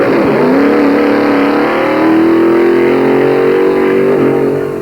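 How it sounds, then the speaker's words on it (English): A 1965 drag racing car accelerating hard, a loud continuous engine roar with rising pitch through the gears, close and steady with no voices. "Drag racing is America's youngest and fastest growing sport."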